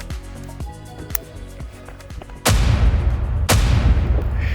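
A CMMG .22 LR conversion kit rifle with a binary trigger fires: a string of quieter rapid cracks, then two loud, close booming shots with long ringing decay.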